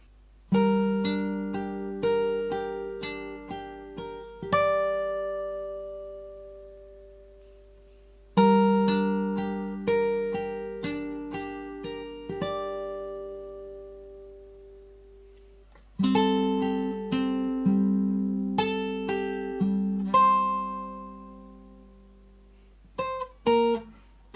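Slow, picked guitar phrases from the A section of a piece from The Last of Us Part II, clear ringing notes and chords in three long passages separated by short gaps, played alone without voices.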